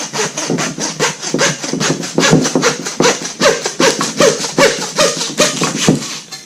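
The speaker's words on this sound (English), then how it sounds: "Now this is a little too thick to go through with my cleaver there, so we'll go ahead and use the saw on this one." A hand bone saw cuts through a Boer goat carcass, giving loud, close, steady back-and-forth rasping strokes in a regular rhythm, with no talking.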